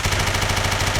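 An HK MP5 fires fully automatic in World of Guns, a fast even stream of loud close shots with a steady rapid rhythm for the whole second.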